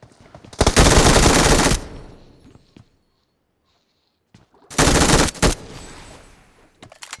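Automatic gunfire in a shooter video game set among housing blocks comes in two loud, sustained bursts of rapid shots, with scattered faint clicks and steps in the gap between them.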